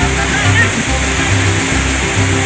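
Waterfall at Tapak Tuan in South Aceh where children bathe, giving a steady broadband rush of falling water with low splashing pulses, loud and continuous, with faint voices mixed in.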